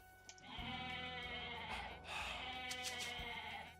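Goats bleating in the strategy game Age of Mythology, several overlapping harmonic bleats in quick succession, fairly loud and close, with game sound underneath.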